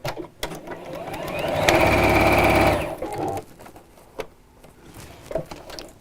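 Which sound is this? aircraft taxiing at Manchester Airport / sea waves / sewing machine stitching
sewing machine stitching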